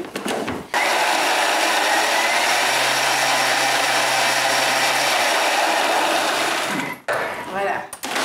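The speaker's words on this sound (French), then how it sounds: "Je vais mixer." Electric blender whirring steadily for about six seconds as it purées chunks of giraumon squash with coconut milk, starting and stopping abruptly, loud and continuous close by.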